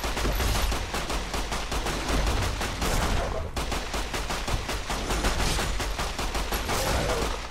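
Very rapid automatic gunfire from a unique weapon in Fallout: New Vegas, fired at Deathclaws in two long sustained bursts of dense, evenly spaced shots with a brief break midway, loud and close.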